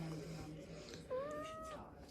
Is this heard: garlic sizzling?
no